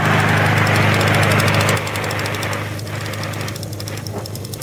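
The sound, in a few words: small engines running during tachometer testing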